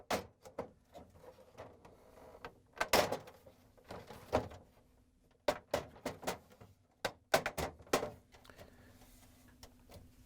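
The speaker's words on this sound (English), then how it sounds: "we can lower it down as we go across, snap the door onto the cover." A Samsung refrigerator door is snapped onto its hinges, giving a series of sharp plastic clicks and knocks in irregular bursts against a quiet room with a low hum.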